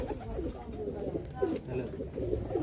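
Teddy pigeons at a bird sale in Kolkata coo in soft, repeated low throaty phrases close by, with people talking over the cooing throughout.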